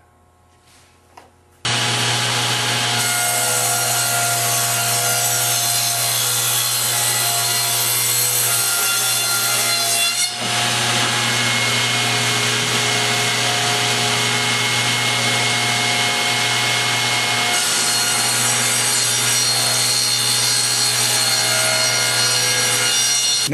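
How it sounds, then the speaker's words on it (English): A power saw runs continuously and loudly, cutting wooden boards into picture-frame molding in a workshop, the blade whine holding steady with a brief dip as the board is fed through again. "I set my fence on 5/16 of an inch for my first cut. And I run each board through twice to achieve uniform depth."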